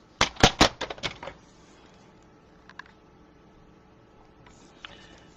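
Paper strip being cut for a scrapbook pop-up box, a quick run of sharp close snips and clacks at the start, then a couple of faint ticks and handling noises in near quiet.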